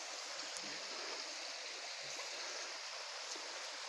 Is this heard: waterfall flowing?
yes